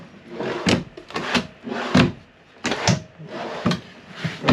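Drawers in a 2020 RPOD 179 travel trailer slide open and shut several times, giving close, loud wooden knocks and rattling glides in an irregular rhythm.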